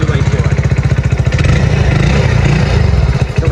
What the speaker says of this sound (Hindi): तो गाइस ये इस बाइक की ओरिजिनल आवाज़ है,